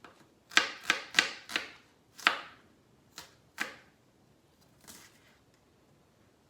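A knife chops an onion on a cutting board in a home kitchen, about eight crisp, separate knocks in an uneven rhythm, close and fairly quiet, with no talking.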